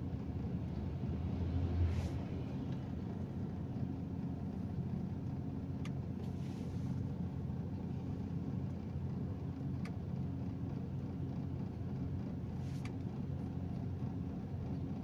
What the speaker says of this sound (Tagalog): Grabe traffic talaga.